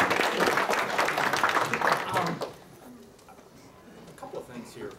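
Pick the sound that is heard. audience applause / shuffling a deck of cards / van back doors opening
audience applause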